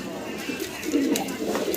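A pair of golden sweet pigeons coo in soft, low, throaty rolls, close by and fairly continuous, with faint background voices underneath.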